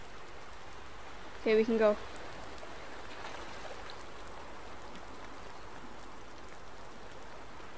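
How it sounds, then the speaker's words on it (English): Steady rain falls throughout in the Farm Simulator 19 video game, a constant soft hiss with a brief spoken phrase near the start. "then it started raining"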